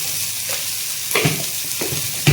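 Ingredients for homemade dal fry in oil with a constant crackling sizzle, broken by several louder scraping stirs of a spoon against the pan, close and clear, with no one speaking.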